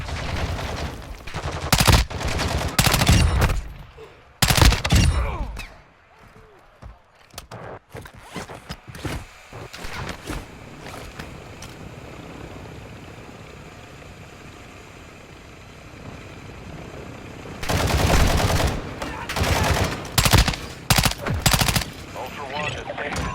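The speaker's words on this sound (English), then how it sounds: "Be ready for a gunfight." Bursts of machine gun fire and gunshots in a Call of Duty gunfight come in loud clusters at the start and again near the end, separated by a quieter stretch of ambient game sound.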